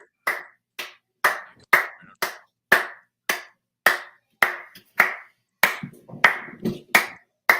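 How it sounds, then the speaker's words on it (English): Slow, evenly spaced hand claps, about a dozen sharp claps roughly every half second, close and loud with brief silence between them, in honor of someone for running a community garage sale event. "Slow clap for Blaze"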